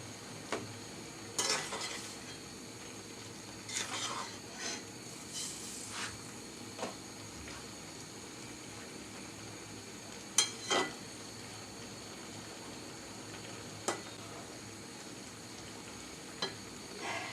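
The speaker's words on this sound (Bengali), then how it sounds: "একটু ফাঁক করে করে জুলের সাথে এভাবে মিশিয়ে দিলে সব দিক দিয়ে লবণটা যায়" Helencha greens being stirred and mixed into a thin masoor dal curry, with a low background sizzle and a few scattered scrapes and clinks of a spoon against the pan over about seventeen seconds, no talking.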